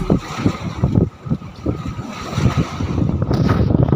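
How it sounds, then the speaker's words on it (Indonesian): Big sea waves and wind at sea, likely heard from a boat, make loud, rough, continuous rushing and buffeting noise with irregular surges. "Ombaknya besar sekali."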